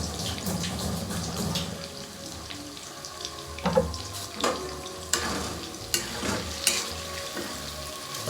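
Paneer fries in a pan for a matar paneer dish, a close sizzle with irregular stirring clatters and watery splashes, loud bumps scattered throughout and no one speaking.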